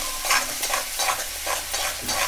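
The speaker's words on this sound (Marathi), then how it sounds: "आता हिला आपला वाटाप घेऊया तेलात परतून." Raw ground masala paste frying in oil over high heat gives a steady sizzle, broken by rhythmic scraping strokes of a spoon stirring it in the pan about every half second, close and moderately quiet.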